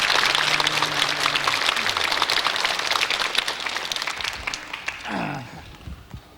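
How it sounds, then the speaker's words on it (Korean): An audience claps together on request at a Korean event honoring an elderly children's-song composer, a dense wash of applause that holds for about five seconds and then fades as a voice cuts in. "자, 여러분 박수를 부탁하겠습니다."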